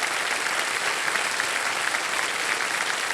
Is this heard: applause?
yes